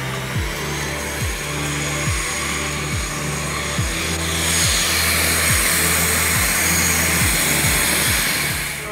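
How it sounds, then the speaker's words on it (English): An L-39 Albatros jet engine spooling up, a broad whooshing roar that builds in intensity, with a rhythmic low pulsing underneath, fairly loud and steady with no voices. "spool up time on a jet engine for an L-39 is usually 12 seconds"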